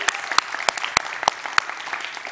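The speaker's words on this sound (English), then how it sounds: "Give them a round of applause." Brief applause from a TEDx climate conference audience at Wageningen University: a thin, scattered patter of individual claps with a few sharp louder hits, moderately close, with no voices.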